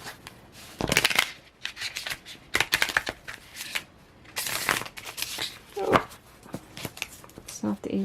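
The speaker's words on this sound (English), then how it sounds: "Not the easiest to shuffle at the moment." Tarot cards, still sticking together, are shuffled in several quick, crisp riffling bursts with pauses between them, close up, while a person talks softly at times.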